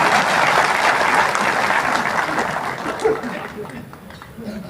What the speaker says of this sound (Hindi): ताली बजा दीजिए आपको